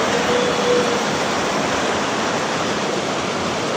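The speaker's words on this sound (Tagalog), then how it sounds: "malapit na po nga itong ilog." A river flowing nearby, a steady broadband rush of water at constant loudness with no talk over it.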